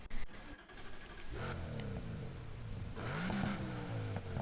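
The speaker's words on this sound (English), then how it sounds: "It's a hybrid V8. But let's give it a listen, see if this could use any fine-tuning." Hybrid V8 car engine in the Need for Speed Heat racing game revving up in a couple of rising and falling bursts, steady drone between, moderately quiet with no talk.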